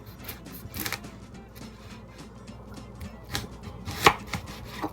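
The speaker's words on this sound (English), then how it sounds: "And then you're going to cut it in half." Knife chopping vegetable pieces in half on a cutting board for fresh salsa pico de gallo, a quick run of irregular sharp taps with a louder final cut, close up and alone.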